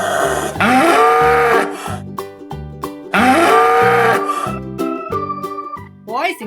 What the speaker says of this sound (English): Moo.